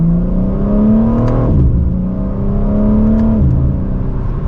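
A 2025 BMW M4 Competition accelerates hard, and its engine note climbs loudly through two rising pulls with a brief dip at the gear shift between them, heard from inside the car.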